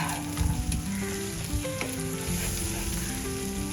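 Egg fried rice seasoned with salt and coriander sizzles steadily in a hot pan as it is sautéed, a continuous close frying hiss with occasional stirring scrapes and no talking.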